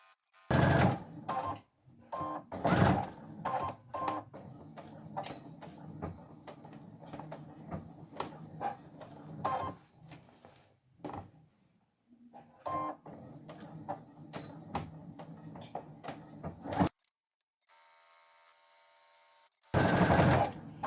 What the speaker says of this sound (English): do a couple of stitches forward and a couple of stitches back